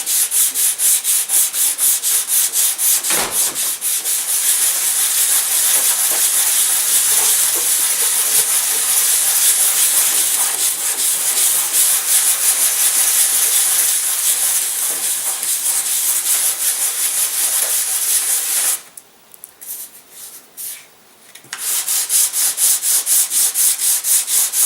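Steady, loud rasping of sandpaper rubbed back and forth over wood, continuous and close, with a brief pause near the end before resuming.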